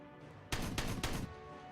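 Space Marines open fire in the Warhammer 40,000: Regicide video game, a short loud burst of roughly three rapid booming gunshots over a steady game background hum.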